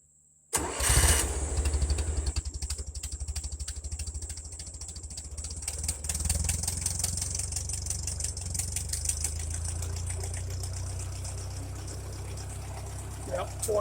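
A 1956 Ferguson TO35 tractor engine cranks and catches after a brief start, then settles into a steady, loud, close-up running rumble with a throbbing idle that continues to the end.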